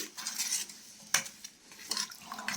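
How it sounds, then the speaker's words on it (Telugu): Jaggery and sugar are stirred in a pot until they melt, with a spoon scraping and clinking against the metal in irregular strokes, one louder knock midway, close up and without speech. "బెల్లం మనకి బాగా కరిగేంత వరకు బాగా కలుపుకోవాలి"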